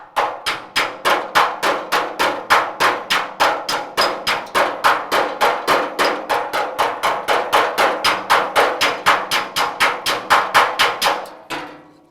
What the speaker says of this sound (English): you don't want to be swinging the hammer like you're pissed off at it. You just light taps.